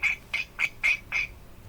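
A voice imitating Donald Duck with five raspy, nasal quacking squawks in an even rhythm, close and clear with no other talk.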